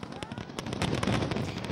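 Fireworks bursting over the Chao Phraya River in Bangkok for a New Year's Eve celebration, a dense, continuous crackle of overlapping pops and booms that stays loud throughout.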